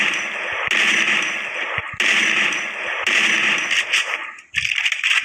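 Video game weapon gunfire in bursts: three dense, loud volleys of rapid shots separated by short gaps, followed by a choppier stretch of clicks and impacts.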